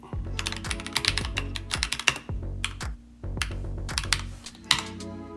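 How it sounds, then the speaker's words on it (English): Password being typed on a computer keyboard: rapid bursts of close, crisp key clicks in uneven runs with short pauses, loud and alone with no talking. "If I can put in the correct password, right?"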